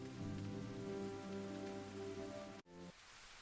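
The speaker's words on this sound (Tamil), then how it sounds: "மழை வந்துடுச்சு." Steady rain falls on a rice paddy field, a dense even hiss that holds for most of the stretch, then cuts out abruptly for a moment and returns more softly.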